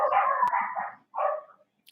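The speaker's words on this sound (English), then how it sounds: "dogs are barking" Several dogs bark in a close, loud burst of overlapping yaps, a short pause, then another shorter round of barking.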